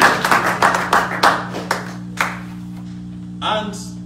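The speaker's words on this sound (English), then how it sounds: "A round of applause for the idea." An audience at a political fundraising event in Columbus, Ohio claps in a brief burst that thins out to scattered claps over a steady low hum, with a voice briefly heard near the end.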